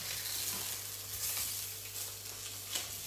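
Sausages sizzle and spit steadily in a hot frying pan while being cooked for a turkey and chorizo jambalaya, a constant close crackling hiss with occasional stirring.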